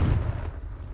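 A Confringo fire spell blast in the Hogwarts Legacy video game: one short, booming burst with a heavy low rumble that fades within a second.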